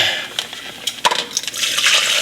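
Hot liquid splashes and pours into a blender, uneven gushes with a few sharp clinks, close and fairly loud.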